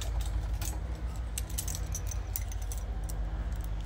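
Keys jangle and scrape steadily as they are tried one after another in a door lock, close and fairly loud over a low rumbling background, with no talking.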